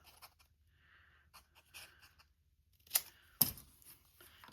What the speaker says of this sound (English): So I just cut a bunch of strips.